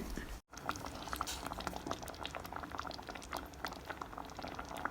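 Thick blackberry paste bubbling and being stirred in a pot as coconut milk goes in, a continuous soft boiling and stirring texture with small ticks and scrapes, close but fairly quiet, after a brief moment of silence near the start.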